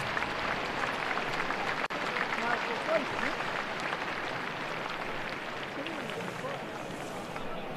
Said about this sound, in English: there was applause for a non-existent half-century